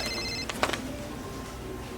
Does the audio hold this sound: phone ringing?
yes